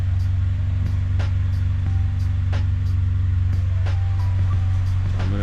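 A Honda engine runs steadily nearby while charging, laying down a constant loud low drone with a faint periodic ticking layered over it and no talking.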